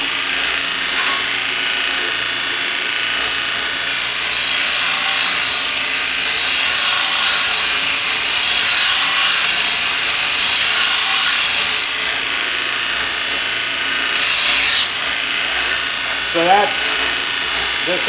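Handheld multitool grinder working a piece of aluminum, a loud abrasive whine running for several seconds, then a shorter second burst, with someone talking around it.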